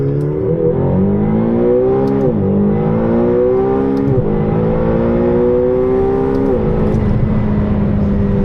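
A 2022 McLaren GT accelerates hard through the gears, its engine note climbing loudly and steadily, then dropping briefly at each of three quick upshifts before rising again.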